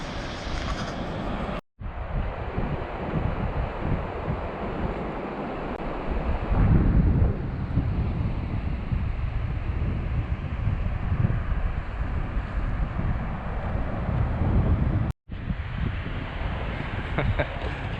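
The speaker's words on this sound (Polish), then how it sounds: "Jak tak wiaterek wieje, to jest chłodniej." Strong wind blows at the seaside in Thailand, roaring steadily against the microphone for the whole stretch. The rush of surf mixes in and swells louder partway through.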